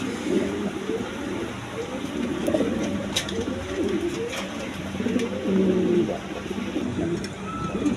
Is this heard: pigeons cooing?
yes